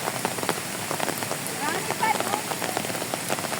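Steady rain falls on surfaces outdoors at a zoological and botanical garden in Hong Kong, a dense continuous patter of drops close by, with a faint voice briefly audible beneath it.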